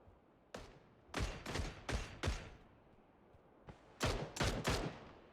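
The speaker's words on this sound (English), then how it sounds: "You can hear the bullets, but he can't spot anybody out." Gunfire in a PUBG match during a competitive league broadcast: several separate bursts of shots cracking out in two clusters, fairly loud over a quiet background, with no talk.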